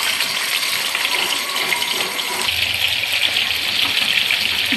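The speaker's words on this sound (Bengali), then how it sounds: "এখন আমি এই মাংস দিয়ে দেবো। এর ভিতরে মাংসটা ভেজে নেব।" Meat dropped into hot oil and frying, giving a loud, continuous hissing sizzle that fills the space close by, with no talking.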